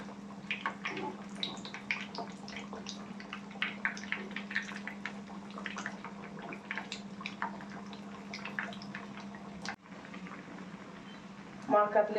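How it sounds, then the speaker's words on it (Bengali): Fish cutlets fry in oil over medium-high heat with a soft, steady bubbling and crackle, and small pops and spits scatter through it. Someone talks over the quiet sizzle almost throughout. "মিডিয়াম টু হাই হিটে করে কাটলেটগুলো ভেজে নিতে হবে"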